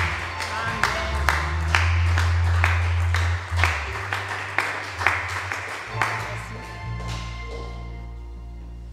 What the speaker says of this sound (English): Let's have let's clap our hands and welcome the man of God.